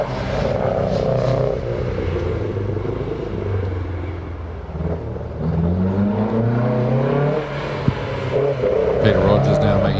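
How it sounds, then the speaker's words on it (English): A 1600 Datsun race car rounds a hillclimb hairpin, its engine note dropping and then climbing through the gears under a commentator's talk, with a steady loud rumble throughout. "Peter Rogers now making his way around the hairpin in the 1600 Datsun."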